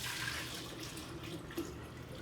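Six cups of water for lemon, cucumber and mint infused water pour in a steady, continuous rush from start to finish, close by, with no talking.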